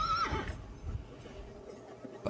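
A horse on a ranch gives a quick, fairly faint whinny at the start, followed by quiet ambient stillness and a brief soft knock near the end; no talking.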